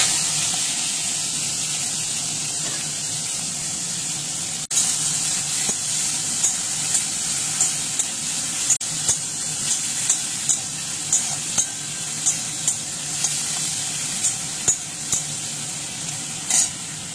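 Dry red chillies and whole cumin seeds spit and sizzle in hot oil in a scorched wok, a steady hiss broken by a regular series of sharp popping crackles.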